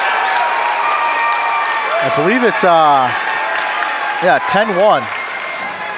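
Crowd at a boys' high school basketball regional game in Amery cheering and applauding, a steady roar of applause under a commentator's voice throughout.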